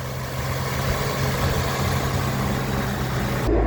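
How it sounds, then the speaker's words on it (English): A 2016 Infiniti QX50 engine idles steadily with a low, even rumble, close and continuous, with no voices. "with the motor running"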